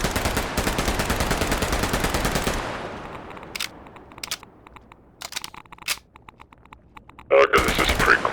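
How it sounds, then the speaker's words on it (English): Rapid automatic fire from a World War II MP40 submachine gun in Garry's Mod, a dense burst of shots for a few seconds that cuts off, then scattered single reports and another short burst near the end, loud and close. "Then you have the MP40, World War II era SMG"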